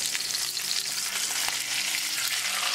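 Salmon pan-frying in lemon butter sauce, a steady loud hissing sizzle with soft crackles, heard close up with no talking.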